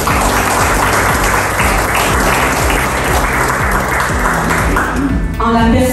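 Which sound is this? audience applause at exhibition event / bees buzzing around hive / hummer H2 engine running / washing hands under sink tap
audience applause at exhibition event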